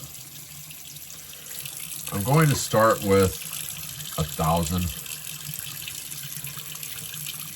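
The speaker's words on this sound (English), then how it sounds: "I've always found what's best is like warm water. So, get the water going here." Warm water running from a sink tap into a basin, a steady quiet splashing stream throughout, with someone speaking briefly over it in the middle.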